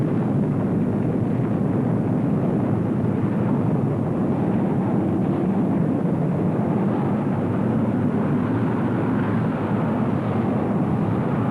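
A massive explosion on the Texas City waterfront, rendered as a dense, sustained low roar with no distinct onset, rumbling steadily and loudly throughout.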